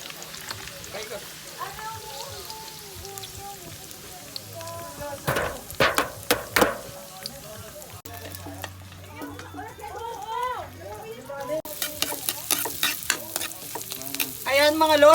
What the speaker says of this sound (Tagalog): Yan po, ginigisa na namin yan